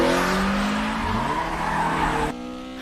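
Car tires skidding and squealing on a leaf-strewn mountain road during an Initial D night race, a loud sustained screech with shifting pitch under engine roar that suddenly cuts off near the end.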